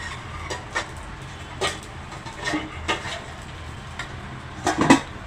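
Lid lifted off a pan of thalipeeth, a roasted mixed-flour flatbread with coriander and onion, frying in ghee or oil: a few light metallic clinks and taps, ending in a louder clattering knock near the close.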